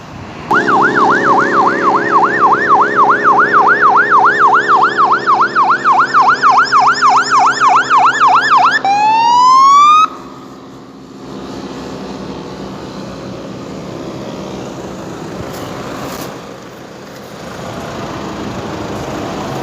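An ambulance siren arriving at a roadside accident wails loud and close in steady rising-falling cycles for about nine seconds, then sweeps upward and cuts off, leaving idling engine and road noise.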